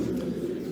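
Pigeons at a pigeon cafe in Amman, Jordan, giving a low, throaty coo that rolls on continuously for a short moment, close and fairly loud.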